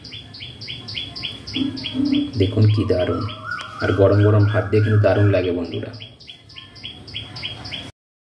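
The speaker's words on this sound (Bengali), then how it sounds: "আর বন্ধুরা শুনতে পাচ্ছেন তো আমার এখানে পাখির ডাক।" Birds call from a tree beside an outdoor home cooking spot, giving rapid, regular high chirps that repeat through the whole stretch while a person talks over them.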